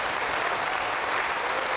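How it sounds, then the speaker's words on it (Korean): A church congregation at a Korean immigrant church's 120th anniversary gathering in Hawaii claps together, a dense, steady wash of applause filling the whole short stretch with no voices on top. "우리 120년 동안 함께 하나님께 영광의 박수 올리겠습니다."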